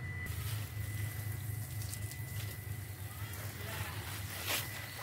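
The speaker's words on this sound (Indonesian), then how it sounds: "sekarang kita siram ya" Water is poured onto Aglonema houseplants in pots, giving a soft, steady splashing trickle close by, partly under a voice.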